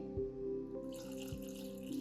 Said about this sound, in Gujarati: અને પાણી આપણા વેજીટેબલ્સ બોળાય એનાથી થોડુંક વધારે નાખવાનું છે